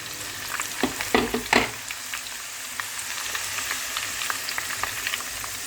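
Dal namkeen crisps in hot oil with a continuous crackling sizzle, and a few louder stirring clatters come early on.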